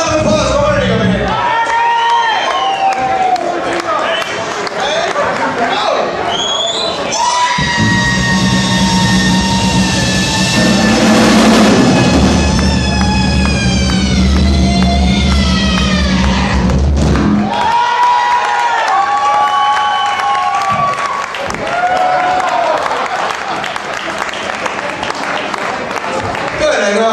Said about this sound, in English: Big round of applause for Ernie over here.